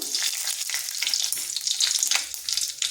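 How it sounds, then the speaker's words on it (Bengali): Panch phoron whole spices hitting hot oil in a pan after fried lentil dumplings were removed, giving a steady, close, bright frying sizzle with faint stirring that runs throughout without any talk. "ফোড়নে দিচ্ছি পাঁচ ফোড়ন"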